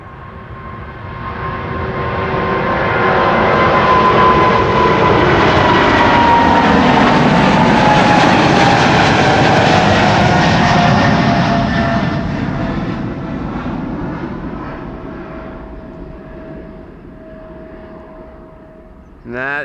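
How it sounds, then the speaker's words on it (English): A KLM Boeing 777 jet takes off from runway 24 at Amsterdam Schiphol, its engine roar swelling into a long, loud broadband rush that peaks mid-clip and then slowly fades into the distance. "With the 777 on its way to Las Vegas."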